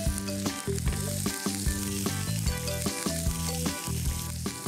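Chopped onion and bay leaf sizzle in a hot frying pan, a loud, steady crackle of frying overlaid with rhythmic background music.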